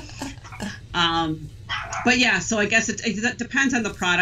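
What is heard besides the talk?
pet dog barking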